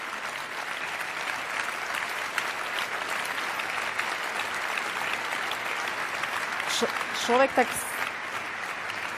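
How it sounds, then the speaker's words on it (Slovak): Long, steady applause from an awards ceremony audience rolls on, thinning toward the end as a voice begins speaking over the fading clapping. "Dlhý potlesk doznel"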